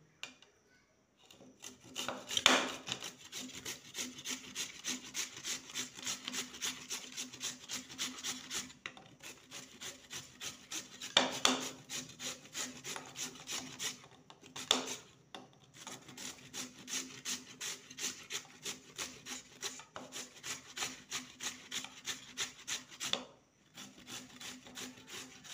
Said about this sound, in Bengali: এবার একটা গ্রেটার, এটা বড় ছিদ্রযুক্ত গ্রেটার, এই গ্রেটারের সাহায্যে আলুটাকে গ্রেট করে নেব।